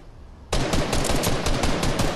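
Rapid automatic gunfire in the video game Fortnite starts abruptly and rattles on loud and steady as a sustained burst of shots.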